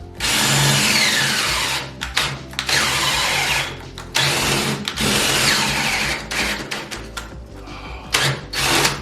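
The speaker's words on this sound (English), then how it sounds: "drill a hole on the other side of this 2x4" A cordless drill whines in repeated bursts, bogging and rising as it bites through a wooden 2x4, with short pauses between loud runs.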